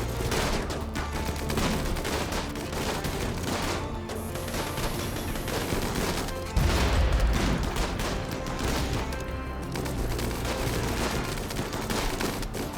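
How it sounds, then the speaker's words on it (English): Rockets firing in the RimWorld video game as a dense barrage of overlapping blasts and booms, a loud sustained volley with a heavier low thump midway. "There goes the rockets"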